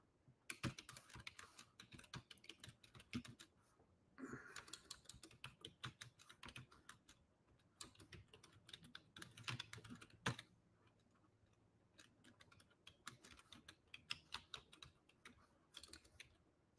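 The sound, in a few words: typing on a computer keyboard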